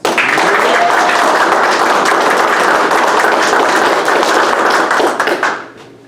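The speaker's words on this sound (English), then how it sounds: "Let's give another round of applause to our newest Dirt Boys." Crowd applause at an Air Force Base graduation for newest Dirt Boys airmen, loud dense clapping held steady for about five seconds, then fading away.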